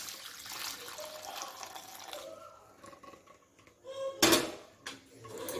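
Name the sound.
pouring off water from boiled chickpeas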